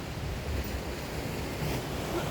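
Sea waves surge steadily along the rocky seashore of Ulleungdo, a continuous broad wash of surf with wind buffeting the microphone, with no voices over it.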